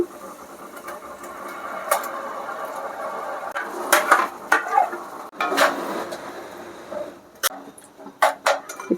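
Garlic, turmeric and tomato frying in a pan for a garlic pickle, a steady sizzle broken by several sharp stirring and scraping clatters, close and moderately loud, no talk.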